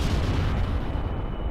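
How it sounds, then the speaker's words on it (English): Cannons fire from a weaponized flying sofa in Kerbal Space Program, a dense, continuous volley of heavy low booming shots rumbling at steady loudness with no pauses. "Fires the cannons."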